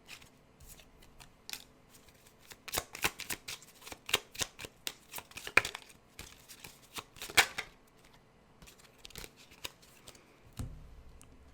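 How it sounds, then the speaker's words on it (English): A deck of tarot cards being shuffled, a rapid series of crisp riffling snaps and soft slides in irregular bursts, close and fairly quiet, with a low thump near the end. "Let me just make sure that I got these good and shuffled from last time."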